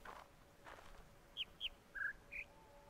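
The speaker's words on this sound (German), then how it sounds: "Hast du gehört, wie der Vogel zwitschert?" Four short, clear chirps from a single bird in the video game The Witness, two higher then lower and higher again, spaced quickly over a quiet background.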